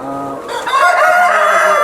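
Tiger breed chickens on a farm give a loud, close rooster crow that swells after a brief lower clucking start, ringing out alone without talk.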